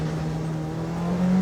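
A Peugeot 205 Turbo 16 Evo's turbocharged engine drones steadily under load with a low sustained tone that rises slightly toward the end, close and fairly loud, with no talk.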